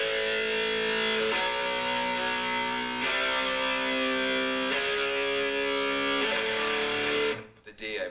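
A distorted electric guitar plays a power chord progression starting on A, at a guitar clinic in 1994; sustained heavy chords change every second or two, then cut off abruptly near the end.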